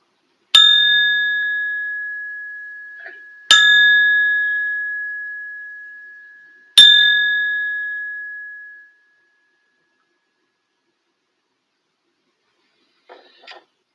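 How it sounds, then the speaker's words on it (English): An old copper one pound coin rings like a bell, struck three times in even succession, each clear metallic ping decaying slowly, followed by silence and a faint tap. "you got the old 1 pound copper, which pings like copper."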